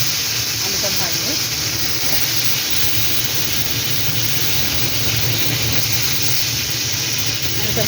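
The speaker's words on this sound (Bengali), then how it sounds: "এবার আমি এই কড়ার মধ্যে আলুটা দিয়ে দেবো।" Potato pieces frying in hot oil in a wok, just after fish was fried in the same pan, give a loud, steady sizzle and hiss that runs unbroken from start to finish.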